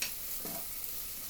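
Garlic cloves browning in a good non-stick pan, a brief soft sizzle with a faint stir in the middle, close and quiet, no speech.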